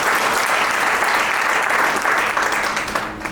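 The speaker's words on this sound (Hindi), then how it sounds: "आपके सम्मान में भी एक बार जोरदार तालियां हो जाए।" An audience at a Hindi book launch event bursts into loud, sustained applause, a dense continuous wall of clapping that tapers slightly at the end.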